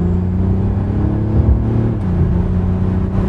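A car engine pulls hard under full throttle with the pedal floored, a loud, steady in-cabin drone and rumble that swells slightly midway and carries on alone without talk.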